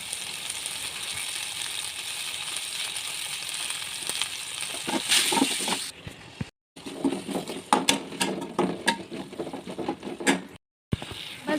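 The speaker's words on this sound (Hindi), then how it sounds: "फिर मैंने फटाफट से प्याज वगैरह, लहसुन अदरक का पेस्ट डाल के ये सब मसाला वगैरह भूना" Onion, ginger-garlic paste and masala frying in a pan, a steady loud sizzle with clattering stirring that breaks into sharper scraping bursts with brief gaps.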